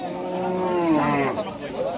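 A cow lets out one drawn, rising moo close by at a busy cattle market in Rajshahi, amid background crowd murmur.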